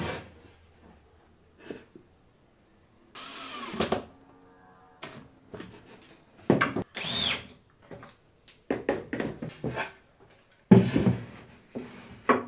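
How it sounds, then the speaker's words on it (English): A power drill drives screws into plywood while a drill press stand is being built: a string of short, loud whirring bursts separated by pauses, with a longer run near the start and some handling clatter between them, and no talking. "I did pre-drill all the edge driven screws, or else the plywood would simply split"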